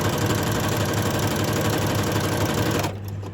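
A sewing machine runs steadily while sewing a zig-zag stitch, a dense rapid mechanical whir with a low motor hum, close and continuous before easing off in the last half second.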